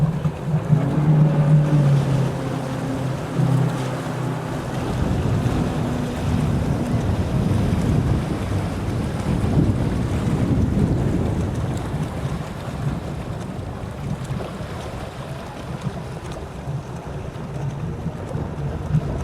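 Wind gusting over open water during a 10k open-water swimming race, a steady rumbling roar with buffeting on the microphone and a faint boat engine hum, constant throughout with no talk.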